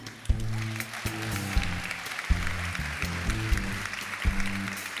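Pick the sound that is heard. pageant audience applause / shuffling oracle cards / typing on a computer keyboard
pageant audience applause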